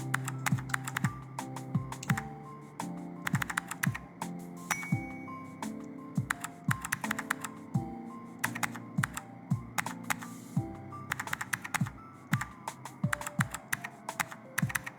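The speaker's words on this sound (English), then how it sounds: "the sound of my keyboard is a little bit flat, but that's only because it doesn't click as loud as regular keyboard computers" Continuous typing on a soft, flat-sounding computer keyboard, with quick irregular bursts of close, crisp keystrokes and no talking.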